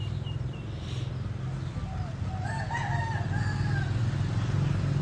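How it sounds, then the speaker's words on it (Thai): A rooster crows and chickens cluck over a steady, low background rumble, the calls rising in the middle of the clip. "มีไก่มาเล่นทรายแล้วนะครับ"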